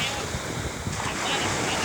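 Ocean waves washing onto a beach at Barangay San Isidro, Zambales, a continuous rushing surf roar mixed with wind buffeting the microphone, heard up close.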